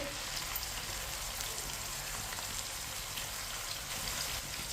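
Chopped onions sizzle in a pan with cumin seeds, a steady, dense hiss of frying that holds evenly throughout without pause.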